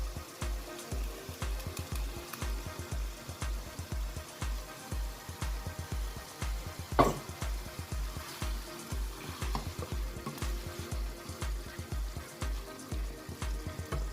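Tomatoes stirred into a bolognese sauce frying in a pan, a soft sizzle under a steady rhythm of regular low thumps, with one sharper clack near the middle.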